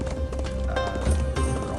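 Horse hooves clop steadily and close in the video game Rangers of Oblivion, with faint whinnying and a dense game soundscape layered underneath.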